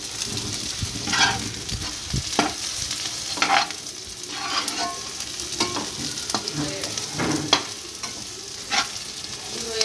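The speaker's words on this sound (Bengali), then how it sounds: "পেঁয়াজগুলো ভাজা ভাজা হয়ে গেছে" Onions fry in a pan for a chicken curry with a steady, close sizzle throughout, broken by repeated scraping and stirring strokes of a utensil, with no talk.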